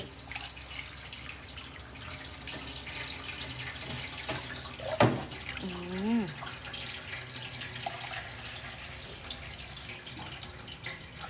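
Soy milk streams and trickles through four layers of cheesecloth in a home kitchen, a faint running-water wash with a couple of louder splashes midway and quiet voices in the background.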